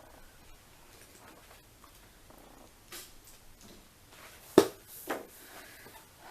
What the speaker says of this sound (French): Désolée si vous entendez du bruit, c'est mes chats qui font les abrutis.